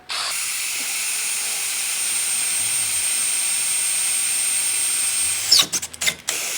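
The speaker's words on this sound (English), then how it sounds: "Now on this it is a, if I can read it, 6mm drill bit" A steady high-pitched whirring drill with a 6mm bit runs continuously for several seconds into soft cast metal, then winds down with a few clattering knocks at the end.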